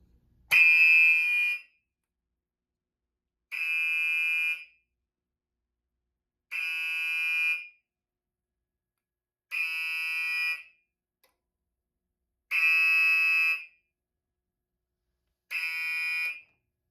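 A Silent Knight 5204 fire alarm panel sounds its supervisory signal for a zone, a loud electronic tone in six short pulses of about a second each, repeating every three seconds with silence between.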